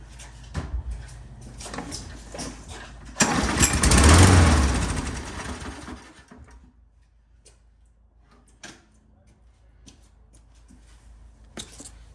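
Toro Recycler lawn mower engine with a gummy carburetor firing off briefly after a shot of fuel: a short burst of sputtering combustion lasting a couple of seconds, surrounded by quiet ticks and clicks.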